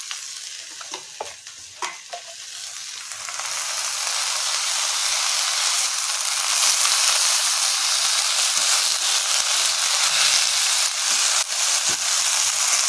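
Fresh spinach dropped into hot oil in a pan for palong rice, a few clattering stirs and then a loud, steady, broad sizzle that holds right to the end.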